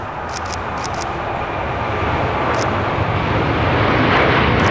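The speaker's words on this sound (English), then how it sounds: "This is Qatar Airways 740 taking off to" Qatar Airways jet airliner taking off at LAX, a steady broadband jet roar that builds slowly in loudness, with faint intermittent high hissing whines above it.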